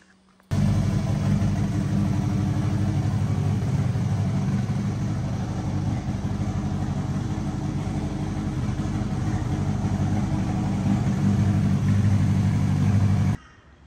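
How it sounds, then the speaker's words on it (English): A Honda K-series billet block engine idles steadily and loudly for about thirteen seconds with a constant low rumble, then cuts off abruptly. "So the motor's all up and running."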